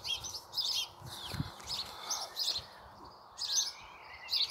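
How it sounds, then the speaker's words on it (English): Small birds chirp from a bush in a home garden, giving repeated short bright tweets in irregular bursts, moderately near, over a faint outdoor background hiss. "Birds in the bush."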